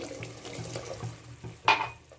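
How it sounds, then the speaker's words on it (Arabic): Water poured from a glass into a pot of honey syrup for Ramadan chebakia, with soft kitchen clinks first and then a brief, close splashing pour near the end. "هنا ها الكاس اللي قلت لكم ديال الماء، هاني ستو هنا"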